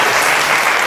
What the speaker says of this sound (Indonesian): Tepuk tangan dulu dong untuk Ciwasa ya.